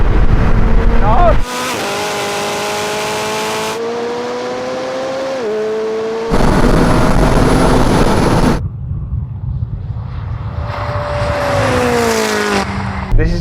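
McLaren supercars race over a standing quarter mile with loud, close engine roars that rise in pitch through several gear changes, one run fading while another car howls past, as people talk.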